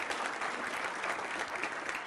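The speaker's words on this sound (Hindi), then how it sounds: "समृत पात्रा, राष्ट्रीय प्रवक्ता बीजेपी के, तालियों के साथ स्वागत कीजिए।" A television debate show studio audience applauds steadily throughout, a dense wash of many clapping hands at an even level.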